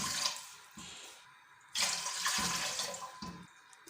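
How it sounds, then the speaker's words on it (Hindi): Water poured from a tap into a cooking pot for Kathiawari chole, running in short bursts then a longer steady splashing stream, near and fairly quiet with no talk. "हम 3 कप पानी लेंगे"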